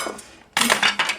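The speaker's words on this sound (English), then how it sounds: "carrot sharpener and just peel the rough parts of skin off of the carrots" A giant carrot sharpener gadget scrapes the rough skin off carrots, producing a few close, loud rasping strokes after a short quieter pause, with clinking kitchen-utensil tones.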